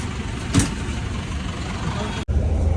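A bus arriving in Mumbai traffic, a steady idling engine drone mixed with surrounding vehicle rumble, close and fairly loud, with a brief voice and a short break near the end.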